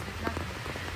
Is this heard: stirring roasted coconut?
no